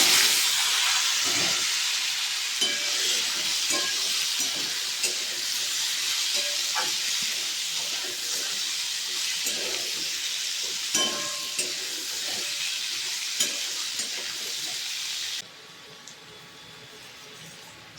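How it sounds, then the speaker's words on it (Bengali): Gobindobhog rice fries in a hot pan, a continuous loud sizzle and hiss with scattered scraping stirs and small clicks, close by, ending in a quieter hiss near the end. "চালটা দিয়ে দিলাম, চালটা দিয়ে বেশ কিছুক্ষণ ভালো করে ভেজে নেব"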